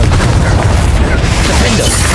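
A fiery Confringo spell explosion in Hogwarts Legacy makes a dense, continuous low boom that rumbles loudly through the whole stretch, with a voice partly mixed into the roar.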